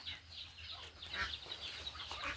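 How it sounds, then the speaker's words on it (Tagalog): Chickens cluck softly on a farm estate, scattered short calls overlapping at a faint, moderate distance over a quiet background. "Ang mga manok oh, ari oh, nakabuhi sila oh."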